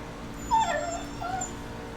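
A dog whimpers and yips from the cab of a Class C truck being driven in Texas, one short high whine rising over a steady engine and road hum, then a fainter second whine.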